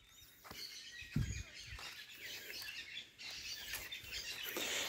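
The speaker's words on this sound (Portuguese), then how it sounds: "vocês vão ficando aí com o barulho dos periquitos, das jandaias" Shrill parakeet and conure calls chatter and screech repeatedly against a background of outdoor ambience at a mango tree, growing busier toward the end.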